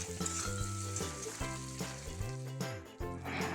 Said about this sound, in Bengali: এবার পেঁয়াজটা একটু লাল লাল করে ভেজে নেব।